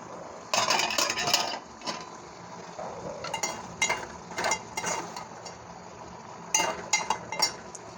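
A pot lid comes off a pan of cooking green brinjal curry with a metallic clatter, followed by scattered clinks and scrapes of a spoon against the cookware, close and intermittent.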